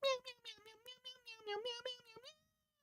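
A cat meows in a long run of drawn-out, wavering cries close by, steady and fairly loud for over two seconds, ending in silence with no talk.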